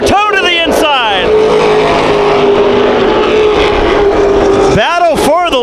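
Race cars at Irwindale Speedway roaring past in pursuit, with loud engine notes sweeping up and down at the start and again near the end, and a steady engine drone between passes.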